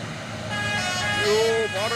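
Telolet horns on passing trucks in Indonesia, including dump trucks and palm-oil haulers, toot in rising and falling melodic notes over steady road and engine noise, moderately loud.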